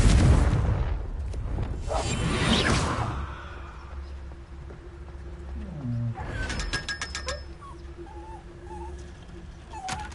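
A Confringo blasting spell in Hogwarts Legacy goes off as a loud, near burst with a rumbling whoosh that fades over a few seconds, followed by quieter magical chimes and ambient game effects.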